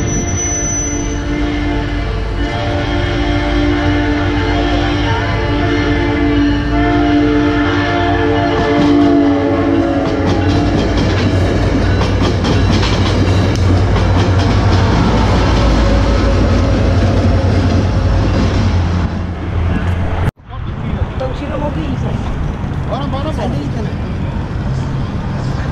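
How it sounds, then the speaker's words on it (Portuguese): A train passing a lowered level-crossing gate near Orlando, a long, loud, steady rumble with a horn sounding early on and a sudden break near the end, while people talk over it. "É o trem, gente."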